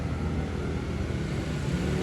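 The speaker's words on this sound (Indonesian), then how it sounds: "itu tuh truk yang dipakai buat jadi angkutan umum teman-teman" A truck pressed into service as rural public transport in Flores passes close by, a steady broadband engine and road rumble lasting the whole stretch without a break, loud and continuous with no voices.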